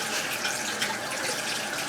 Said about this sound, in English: And let me wash my hands.